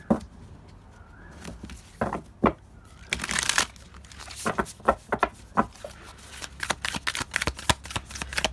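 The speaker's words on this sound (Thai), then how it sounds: "สับไพ่กันนะคะ" Tarot cards being shuffled by hand for a card reading, a run of crisp riffling and slapping bursts with soft papery rustles between them, close and fairly quiet with no talk over it.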